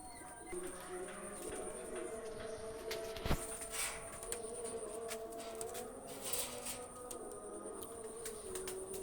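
Red-necked running pigeons coo faintly in a loft, soft low calls repeating under a steady background hum with occasional chirps.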